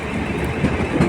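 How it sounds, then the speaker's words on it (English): A Great Western Railway class 165 diesel train passes at Redhill station, a steady loud rumble with rhythmic wheel clatter over the rails, heard up close with no talk. "I want to get this Great Western Railway though."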